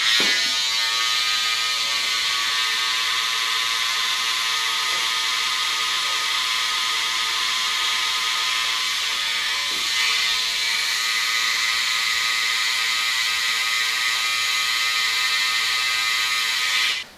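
Electric shaver or finishing clipper buzzing steadily and loudly for the whole stretch while finishing a skin fade haircut, a continuous high whine with faint mechanical ticks and no talk.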